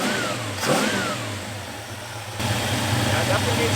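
A 1973 Plymouth Scamp engine running for the first time since 2004, idling close by and revving in swells, with people talking over it.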